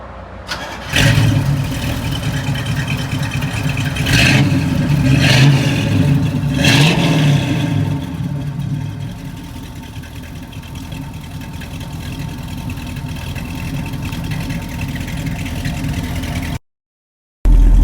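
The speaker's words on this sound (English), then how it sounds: "We're going to start it up and see how it sounds." A 1967 Chevrolet Camaro Convertible engine cranks and catches, revs up a few times in loud bursts, then settles into a steady, rumbling idle that runs on for several seconds.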